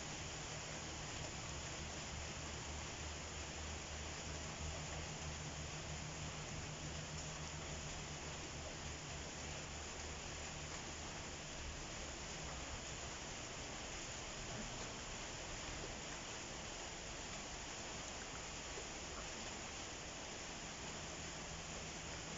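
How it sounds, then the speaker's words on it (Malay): Water is poured gently over the potting soil of a small bonsai, a faint, steady, continuous hiss of trickling water with no talking. "Kita siramkan air biar media tanam kita basah ya."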